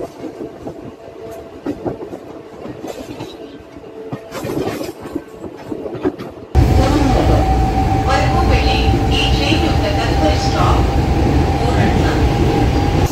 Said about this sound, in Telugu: మేట్పల్లి తర్వాత మన ట్రైన్ ఆగేది కోరట్లలో.